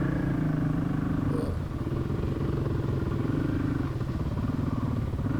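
A 450L dirt bike engine runs steadily nearby, a continuous throaty thrum with a slight dip partway through and no speech over it.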